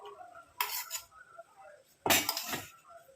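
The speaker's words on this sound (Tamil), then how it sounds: "இப்போ எல்லாத்தையும் நல்லா மிக்ஸ் பண்ணி விட்டுருங்க" A spoon stirs henna paste in a bowl, making two distinct bursts of scraping and clinking against the bowl's side, close and fairly quiet, with gaps between them and no speech.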